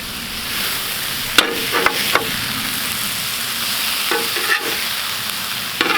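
Flour tortillas and cheese sizzle steadily on a Vevor flat top griddle, a constant frying hiss broken by a few light scraping and tapping sounds from a spatula.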